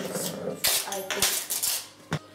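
Pumpkin pie filling being scraped into a bowl with a utensil, with close clinks and scrapes of metal against the dish in irregular bursts and low voices faintly behind.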